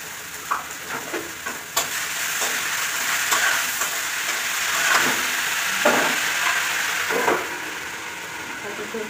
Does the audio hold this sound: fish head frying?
yes